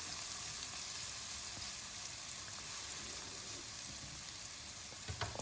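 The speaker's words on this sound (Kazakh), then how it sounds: "пиязымызды майда қылып турап, осылай қызарғанша қуырып алатын боламыз" Finely chopped onions fry steadily in hot oil, a soft, even sizzle that runs throughout without a break, faint and alone with no talking.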